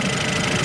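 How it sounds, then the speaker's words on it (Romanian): A 2021 Mercedes-Benz S-Class S 500 L 4MATIC six-cylinder engine starts, giving a short, loud, throbbing rumble. "Oh, pregătesc chiar eu motorul și îl deschid."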